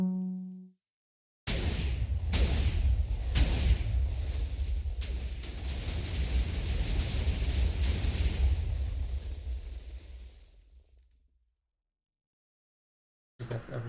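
A TNT cannon in Minecraft Java 1.16.5 fires: a short tone, then a sudden heavy roar with several sharp explosive bursts that sustains for about ten seconds and fades out, followed by another burst at the very end.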